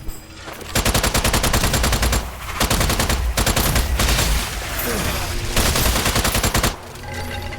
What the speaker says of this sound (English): So much shooting.